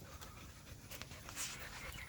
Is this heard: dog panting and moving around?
yes